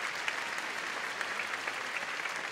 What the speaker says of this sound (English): Give them a round of applause for their good work.